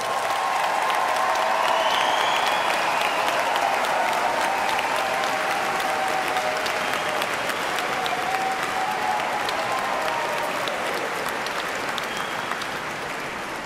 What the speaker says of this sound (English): let us recognize with a hearty round of applause our Eastern Kentucky University class of